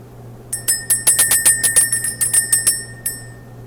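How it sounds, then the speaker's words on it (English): A small bell rung by hand to clear energy, struck in a quick run of about a dozen bright, ringing dings close by, then one last strike after a short gap. "Let's ring the bell."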